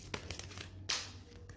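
Tarot cards being shuffled by hand, a soft papery riffle and crinkle with a few sharper flicks, one louder burst partway through, fairly close and quiet with no talk.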